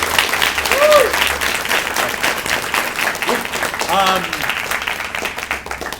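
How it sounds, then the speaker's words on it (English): An audience at a primary schools state debating championship applauds steadily and loudly throughout, with voices calling out over the clapping. "we obviously all need to give a round of applause for the person who really makes this week happen"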